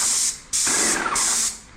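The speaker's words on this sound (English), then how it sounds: "you just turn the knob over to spray and go to town, basically" Paint spray gun firing a test spray, giving two loud, steady hissing bursts with a brief pause between them, close and with no voices.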